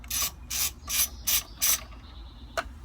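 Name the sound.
ratchet with 9/16 deep socket loosening condensate pump check valve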